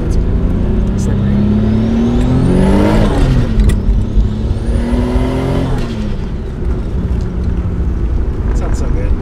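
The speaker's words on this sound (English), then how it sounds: "the wastegate sounds so weird though" An RB26-swapped R32 sedan's engine drones loudly from inside the cabin, rising twice in pitch with a whistling turbo and wastegate whine over it, while people talk.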